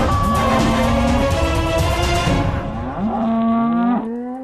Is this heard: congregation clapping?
no